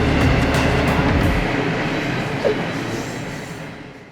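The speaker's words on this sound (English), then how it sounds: "cut to the train" A train rolls past in a steady, broad rumble and rush, loud at first and slowly fading as it moves away, with no voices.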